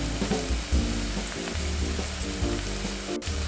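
Onions frying in a pan for a pasta tomato sauce, a steady close sizzle with a few stirring scrapes, heard alone without talk.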